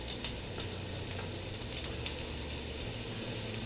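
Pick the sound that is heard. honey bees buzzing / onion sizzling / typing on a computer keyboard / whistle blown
onion sizzling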